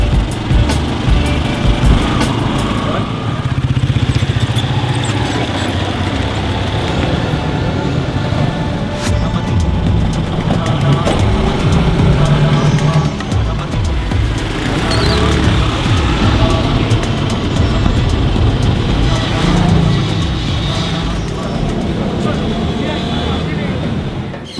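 Riding in an auto rickshaw through busy Lahore traffic, with a steady small-engine drone, road rumble and scattered horns and passing vehicles, continuous and fairly loud, without talk.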